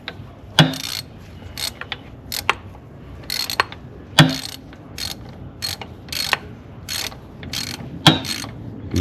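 Ratchet cranking on a fastener during a high-pressure fuel pump replacement on an Audi Q5, heard as short bursts of rapid metallic clicks in several separate groups, close and fairly loud, with no talking.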